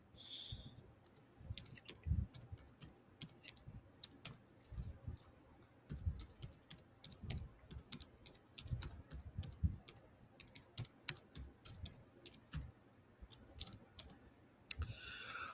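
A computer keyboard clatters with steady bursts of quiet, close key clicks and pauses between words, alone without talk.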